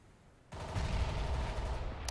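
Pistol and rifle gunfire in a CS:GO match, a sudden burst of rapid shots starting partway in and continuing densely to the end, loud and unbroken with no talk.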